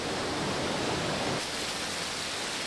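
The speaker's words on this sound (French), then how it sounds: "Ça y est, on commence à avoir des vraies cascades." Waterfalls in the Guadeloupe jungle on Basse-Terre, a steady broadband rush of falling water that fills the clip with constant hiss and roar, with no voices.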